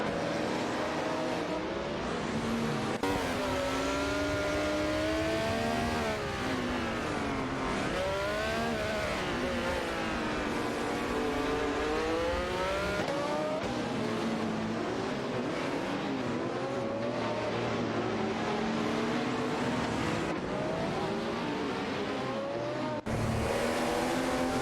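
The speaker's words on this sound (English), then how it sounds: "Let's cheer on these AI race cars together." Racing cars in an AI-driven racing video game roar continuously, engines rising and falling in pitch through gear changes as cars pass, with brief cuts between shots and no talking.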